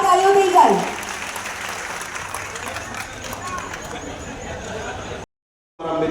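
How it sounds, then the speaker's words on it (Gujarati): Crowd applause at a mass wedding ceremony in Savli, a broad steady wash of clapping after a brief spoken phrase, continuing for several seconds before cutting out abruptly. "જોરદાર તાળીઓ થઈ જાય।"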